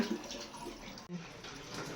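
Water running from a pipe into a container at an outdoor family gathering makes a steady, moderately quiet splashing flow with a brief break midway, with no talk.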